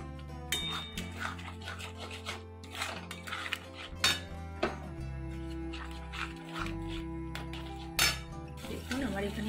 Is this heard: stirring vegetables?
yes